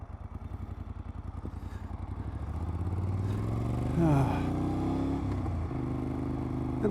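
A Moto Guzzi Griso motorcycle pulls away on a ride, its engine thumping at idle and then rising into a steady, louder drone as it accelerates, with faint clatter, up close and without talk.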